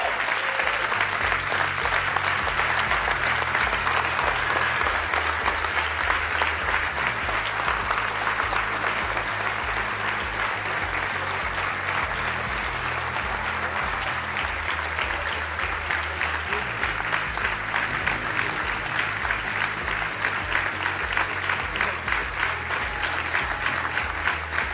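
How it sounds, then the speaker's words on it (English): A large audience at a case competition finale applauds the Wharton University of Pennsylvania team, with steady, dense clapping that holds for about 25 seconds at full strength, loud and close, with a rhythmic music beat underneath. "Please give a warm applause to Wharton University of Pennsylvania."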